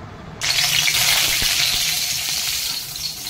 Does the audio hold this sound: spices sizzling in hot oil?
yes